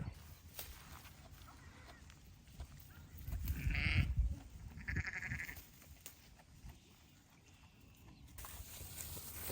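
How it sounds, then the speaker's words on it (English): A young ewe bleats twice in quick succession, fairly faint and close, amid quiet rustling and shuffling in the background. "You are such a good little sheep."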